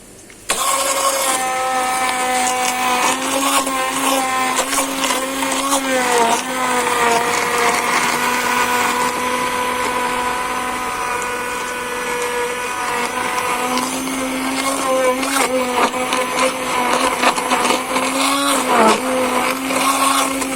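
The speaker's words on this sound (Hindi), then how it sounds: "इन सबको हैंड ब्लेंडर की मदद से अभी मैं मिक्स कर रहा हूँ।" A hand blender whirs loudly and continuously, grinding peeled ginger, garlic and four or five green chillies into a paste, its pitch shifting slightly as the load changes.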